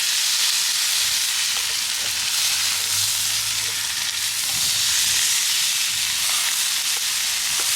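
Ribeye steaks on a Traeger Flatrock griddle over high heat, giving a loud continuous close sizzle and hiss that holds steady throughout, with a faint low hum briefly underneath and no talk.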